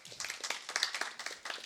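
Conference audience giving scattered, light clapping for a talk, a modest crowd heard from a short distance, brief and fairly faint.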